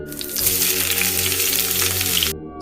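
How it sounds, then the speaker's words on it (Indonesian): Water running from a toilet, a short burst of rushing, splashing flow that starts abruptly, stays steady and loud for about two seconds, then cuts off. "Suara air mengalir jelas dari toilet dalam."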